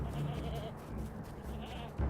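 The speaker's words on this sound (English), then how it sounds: "There's the domesticated dung goats." Domesticated dung goats in the Lord of the Rings Online video game give a few soft, bleating calls in the background.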